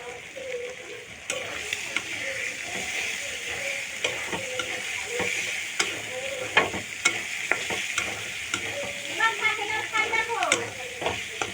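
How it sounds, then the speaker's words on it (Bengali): Beaten eggs being stirred into pasta in a hot pan at home, with a soft continuous sizzle and frequent scraping, clacking strokes of a utensil against the pan, steady throughout. "তারপর সব কিছু ভালো করে নেড়ে চেড়ে নিতে হবে।"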